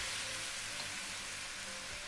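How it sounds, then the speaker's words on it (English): Chicken pieces seasoned with chicken powder sizzle loudly in a very hot stir-fry pan for a ginger chicken stir fry, giving a continuous, close, hissing crackle with no voices over it. "pan like super hot, so that's why you can hear the sizzle all crazy"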